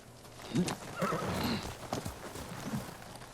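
A horse in the Ghost of Tsushima video game whinnies and snorts up close, with hooves clip-clopping along beneath its calls.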